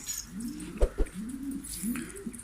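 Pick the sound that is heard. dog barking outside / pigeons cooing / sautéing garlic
pigeons cooing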